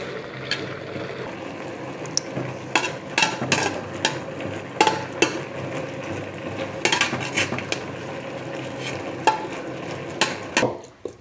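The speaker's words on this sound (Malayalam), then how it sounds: "നമ്മൾ അടുപ്പത്തുനിന്ന് മാറ്റിയിട്ട് നല്ലോണം ഉടച്ചു കൊടുക്കുകയാണ്" Cooked jackfruit is mashed with grated coconut in a pan off the stove, heard as repeated scraping and clinking strokes of a metal spoon against the pan, irregular and close, with no talk.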